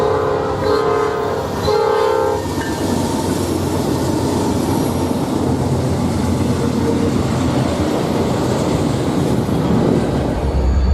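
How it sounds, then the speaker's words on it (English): A loaded intermodal freight train rolls past close by in Gary, Indiana, a loud continuous rumble and rattle of cars throughout, with a horn sounding briefly near the start. "20K is a daily intermodal from Chicago, Illinois, 63rd Street Yard to Croxton, New Jersey."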